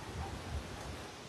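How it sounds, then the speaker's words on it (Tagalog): Heavy rain during a windy storm, a dense, even hiss of downpour with a low rumble beneath, faint and continuous with no voices. "Ang lakas ng ulan ngayon dito sa amin."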